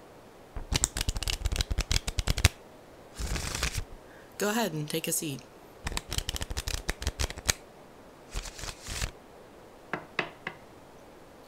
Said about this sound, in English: I'm just shuffling the deck.